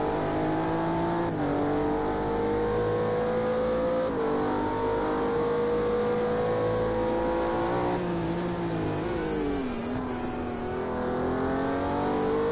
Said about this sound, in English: Let's have a little listen in, shall we, to the engine sound.